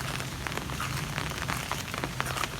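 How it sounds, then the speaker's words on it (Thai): Rain falls steadily on surfaces on a morning in Vientiane, Laos, during a rice festival, a dense and even patter of drops close by with no voices. "มื้อนี้ฝนตกตั้งแต่เช้า"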